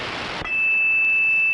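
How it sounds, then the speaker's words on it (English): A radio's roger beep at key-up sounds as one steady, sharp electronic tone after a brief burst of static, close and loud, with no speech. "I got the Roger beep at the beginning of the key up on this one"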